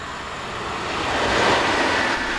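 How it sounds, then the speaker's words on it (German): A D-Zug express train passing along a railway embankment in 1994, a broad, rising rumble and rush that swells toward the middle and holds, heard from nearby without speech. "D-Zug."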